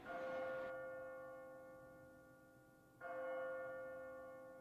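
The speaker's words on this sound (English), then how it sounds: "Oh, there's that awful bell." Bell ringing in the video game Labyrinth of Refrain: Coven of Dusk, two rich metallic strikes about three seconds apart, each ringing out and slowly decaying, faint and alone.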